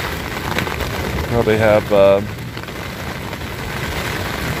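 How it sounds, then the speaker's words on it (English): Heavy torrential rain drums steadily on a tent in Manitoba, a dense, close patter that continues throughout while a voice speaks briefly in the middle. "we're in another torrential downpour"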